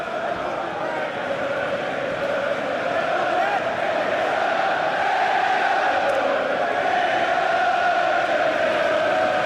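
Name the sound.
cheering crowd of UK fans at UFC event in Birmingham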